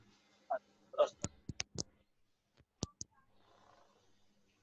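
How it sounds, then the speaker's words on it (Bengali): A computer keyboard's Enter key is pressed, giving a few sharp, close clicks spaced irregularly in a quiet room, with brief bits of voice between them. "এন্টার চাপ দেবো এখন এন্টার।"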